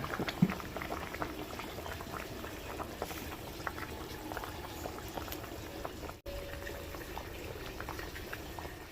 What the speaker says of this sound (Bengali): এবার টকবক করে ফুটছে